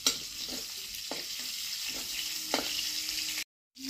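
Hog plum (amra) frying in oil for a small fish curry: a steady soft sizzle with occasional stirring scrapes, fairly quiet and close, cut briefly near the end.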